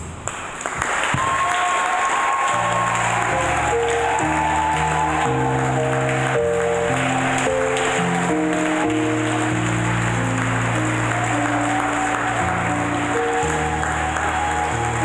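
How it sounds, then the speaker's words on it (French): A church congregation applauds and cheers for Jesus Christ during a French-language worship session: dense, sustained clapping from a large crowd fills the whole stretch, with sung or played tones beneath and little speech. "je veux que tu acclames pour Jésus-Christ"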